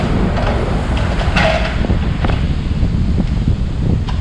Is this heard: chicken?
no